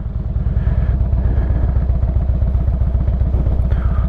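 Loud, close motorcycle engine running at low speed as the clutch is eased out, a steady pulsing throb with a rhythmic low-frequency beat that continues throughout.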